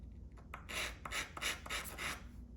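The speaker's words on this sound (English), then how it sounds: "We're just gonna take this top section here and just start sanding it." Quiet rhythmic rasping strokes of 220 grit sandpaper rubbing on wood, about eight back-and-forth passes, close up with no talking.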